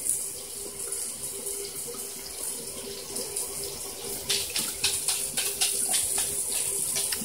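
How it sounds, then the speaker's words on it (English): Water poured into an essential oil diffuser's reservoir, a steady close trickle that turns into brighter splashing toward the end, with no talk. "when you pour it in, you always want to try to make sure you pour it more to the left side of the diffuser instead of the right"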